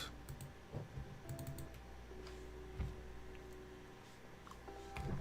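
Someone types on a computer keyboard, producing irregular clusters of quick clicks and taps close by, with a few heavier key strikes and brief pauses between bursts.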